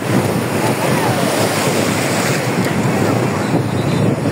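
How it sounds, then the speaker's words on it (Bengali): Ocean waves break continuously on the beach at Cox's Bazar, a loud, dense roar of surf mixed with heavy wind buffeting the microphone, steady throughout with no pauses. "কি পরিমাণ ঢেউ দেখেন, পানি কোন পর্যন্ত গিয়ে উঠতেছে।"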